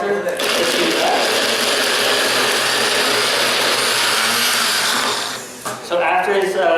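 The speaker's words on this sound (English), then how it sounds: "So you can take any blender." A blender purees food with no liquid added during a Filipino cooking demonstration, a loud steady whirring roar that runs for several seconds and then drops away briefly before surging again.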